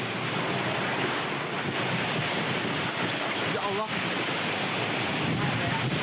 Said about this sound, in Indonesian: Hujan deras disertai angin kencang melanda kawasan Soekarno-Hatta, Buah Batu, Kota Bandung, Jawa Barat.